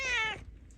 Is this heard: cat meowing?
yes